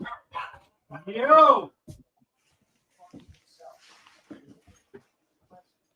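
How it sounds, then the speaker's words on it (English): Several dogs bark at a distance behind a person talking, with a few sharp barks and a drawn-out howling yelp early on, then scattered quieter sounds. "I don't know if you can hear them barking back there."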